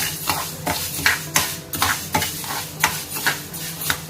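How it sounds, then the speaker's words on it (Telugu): Fenugreek and mustard seeds dry roasting in a pan while being stirred, with regular scraping strokes of a utensil against the metal over a light crackle, close and fairly loud. "అందుకే ఇవి వరకు వేరేగా వేయించుకుంటున్నాం"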